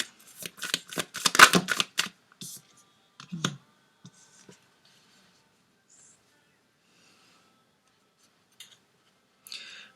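Playing cards are shuffled and drawn during a group card reading, giving a quick cluster of papery riffles and flicks over the first few seconds, then sparse soft taps and near silence, with a brief rustle at the end.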